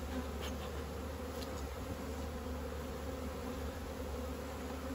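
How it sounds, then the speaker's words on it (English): Agitated honeybees drone steadily inside an opened hive during a spring inspection, a close, continuous buzzing that holds at an even level with no talk. "We're not happy, these bees."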